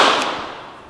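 A single sharp pistol shot aimed at a cap as a target, loud and close, its crack fading out over a second with no voices.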